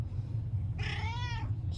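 A stray cat being fed gives a single clear, drawn-out meow, close and loud over a low steady background rumble.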